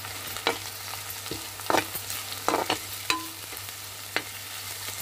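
Eggplant frying in a nearly dry pan, faint sizzle under a few sharp crackles and pops spread over several seconds, with occasional scrapes of a stirring utensil; no talking.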